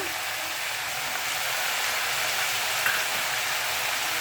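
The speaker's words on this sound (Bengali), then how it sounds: "এইবার আমি সবজিতে মশলাগুলো দেব।" Spices go into vegetables frying in a pan for morola fish chorchori, giving a close, loud, continuous sizzle and crackle that holds steady throughout.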